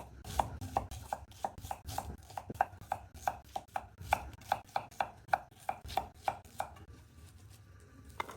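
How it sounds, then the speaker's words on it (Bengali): Knife chopping onions into thick pieces on a board, a quick regular series of crisp close-up cuts, about twenty strokes with no talking. "আর পেঁয়াজগুলো একেবারে মোটা মোটা করে কেটে নেব"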